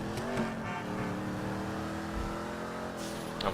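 A high-horsepower sports car engine in GTA V drones steadily at high revs, with a sustained harmonic whine, close and continuous without any talking.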